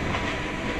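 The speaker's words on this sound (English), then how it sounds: "I can hear a tram getting real close to us." A heritage tram in a Roblox city circle route game rumbles close by, a steady dense rolling rail noise with faint clickety-clack filling the moment, with no voices.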